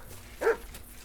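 A single short dog bark from Mott, the dog in the video game Kingdom Come Deliverance II, a brief moderately loud yap over a quiet background.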